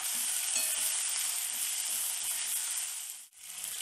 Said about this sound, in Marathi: वांगी 1-2 मिनटं परतून झाली, त्याचा रंगसुद्धा बदलला आहे, मटारचा सुद्धा रंग बदलला आहे.